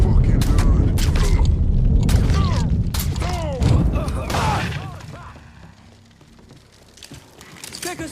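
Grenade explosion in the Mafia 3 video game amid gunfire, heavy booms and sharp cracks in a loud chaotic firefight, fading into quieter rumble, with a player talking over it.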